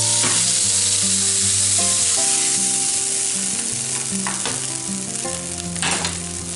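Venison cube steak fries in a pan with a loud, steady sizzle that runs the whole way, under a layer of background music and with no talking.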